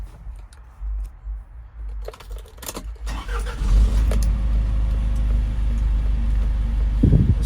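A 2006 Isuzu NPR box truck's engine cranks after some clicking and rattling, catches, and settles into a loud, steady low diesel idle close by, with a revving swell at the end.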